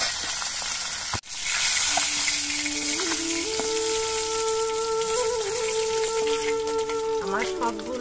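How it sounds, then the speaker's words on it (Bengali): Pieces of rohu fish frying in hot oil give a steady, close sizzle and crackle, broken by one sharp knock near the start, with faint tonal background sounds overlapping. "আমার সবগুলো মাছই ভেজে নেওয়া হয়ে গেছে।"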